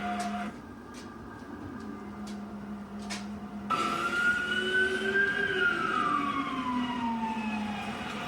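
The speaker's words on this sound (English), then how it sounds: "There is like 30 police cars in our neighborhood right now." Distant police sirens wail in a neighborhood, one steady tone cutting out before a rising and falling wail swells in, over low outdoor rumble.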